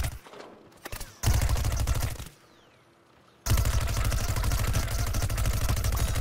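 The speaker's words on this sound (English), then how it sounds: "Oh man, I went into Gatling gun mode a little too early, didn't I?" Rapid Gatling gun fire in the video game Plants vs Zombies Garden Warfare: loud, dense bursts of fast repeating shots, a short burst, then a longer one, a brief lull, and a sustained stream to the end.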